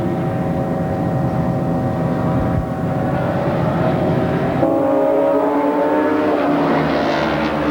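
A television helicopter passes overhead at a 1989 Australian superbike race at Oran Park, its steady drone and engine hum shifting in pitch partway through, with racing motorcycles mixed in.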